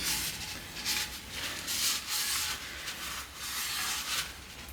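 Steady rubbing and scrubbing as old dried grease is cleaned out of a scooter's head tube, a close, hissing scrape in repeated strokes of varying length.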